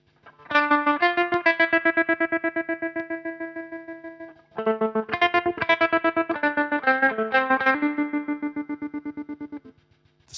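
Electric guitar through a Dophix Galileo optical tremolo pedal, two sustained strummed chord passages pulsing in a steady throb, the rhythmic volume chopping speeding up and then slowing back down, played alone at moderate level.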